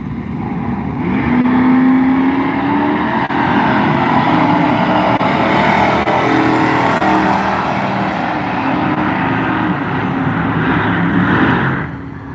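A drag race between a mid-1970s Pontiac and a late-1960s El Camino at a Halloween Classic event, a loud sustained engine roar that holds steady for about ten seconds before dropping away, with no voices.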